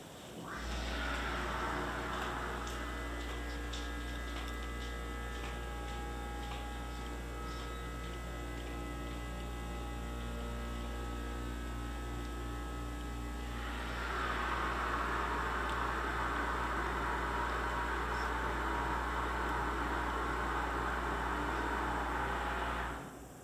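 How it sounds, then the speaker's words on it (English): A steady low mechanical hum from an elevator motor in a hotel machine room drones throughout, with a whirring whine above it that swells louder partway through. "that sound you just heard was the motor in this machine room"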